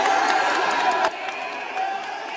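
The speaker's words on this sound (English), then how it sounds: "And all they're doing is clapping." A crowd at an Ole Miss event claps and cheers, a loud sustained wash of applause with shouts mixed in.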